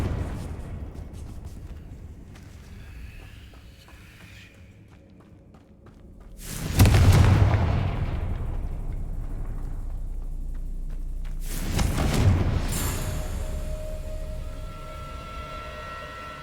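Confringo spell explosions in the Hogwarts Legacy video game, two heavy booming blasts a few seconds apart, each with a low rumbling tail over a quiet game ambience.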